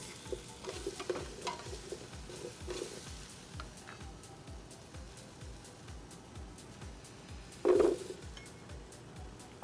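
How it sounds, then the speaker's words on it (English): Potatoes and onions fry in a pan, a soft steady sizzle with repeated light stirring scrapes and one short electronic beep near the end. "So now I'm going to go ahead and add the potatoes."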